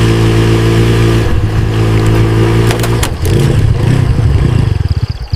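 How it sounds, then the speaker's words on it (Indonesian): A motorcycle carries a couple home along a road toward a quiet garden area. Its engine drones loudly and steadily, then the pitch shifts with revving and a rougher, pulsing stretch near the end. No one speaks. "mereka pulang naik motor"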